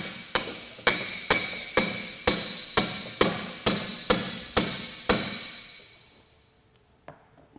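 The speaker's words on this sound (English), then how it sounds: "And I'm just going to drive this spike in." A hammer drives a metal spike into an RV tire: about ten sharp, ringing metallic strikes at an even pace, each decaying briefly, then a final faint tap after a pause.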